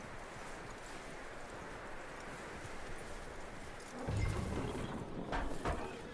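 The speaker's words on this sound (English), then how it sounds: "That looks like a decent horse." Horse hooves clip-clopping in Red Dead Redemption 2, a steady rhythmic clatter at moderate distance under a windy outdoor bed, growing a bit louder toward the end.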